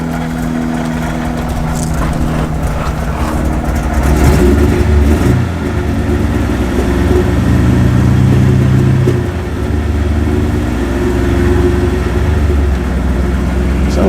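Classic MGB engine running rough and rich on choke, a steady mid-pitched drone that swells twice as it is revved, close and loud throughout.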